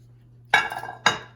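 Two sharp metallic clanks as cookie dough for salted caramel peanut butter chocolate chip cookies goes into a baking pan, close and distinct about half a second apart, the first with a short ringing tail.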